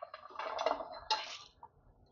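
Garlic, ginger, green chili, cumin seeds and curry leaves are pounded in a stone mortar, giving a few quick, faint clattering knocks in short bursts before fading to near silence.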